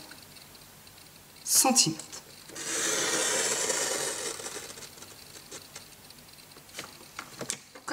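A paper trimmer slices across photo card stock, a close scraping swish of the blade running along the rail, set off by a brief clack and followed by a soft voice and small handling taps.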